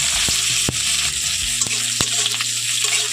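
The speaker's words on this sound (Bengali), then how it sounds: "এখন আমি কড়াইতে তেল দিয়ে দিচ্ছি তো এক চামচ মতো আমি জিরে দিয়ে দিচ্ছি আর এখন দিয়ে দিচ্ছি পেঁয়াজ কুচি" Chopped onion sizzles with cumin seeds in hot oil in a wok, a loud, close, continuous crackle broken by a few sharp clacks of a spoon against the metal.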